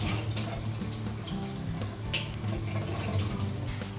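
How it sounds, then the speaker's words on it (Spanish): Tap water runs steadily over eggplant slices being rinsed in a kitchen sink, a continuous splashing hiss with small drips and clatters, fairly quiet and close, no talking. "Vamos a coger cada rodaja de berenjena y le vamos a dar un ligero aclarado debajo del agua"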